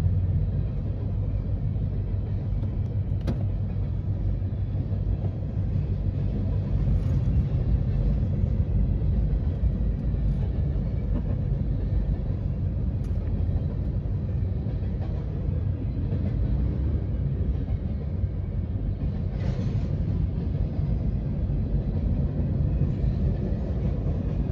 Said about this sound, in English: This train long as fuck.